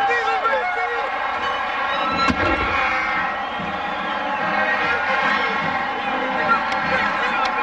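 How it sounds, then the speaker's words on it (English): A football homecoming crowd at Louisiana Tech cheers after a touchdown against Nevada, a broad steady roar filling the stadium while a broadcast announcer talks over it. "The crowd pleased."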